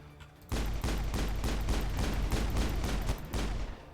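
Rapid gunfire in Mass Effect, loud and close: a sustained burst of about a dozen sharp, evenly spaced shots that starts abruptly and stops short before the end, with no talk over it.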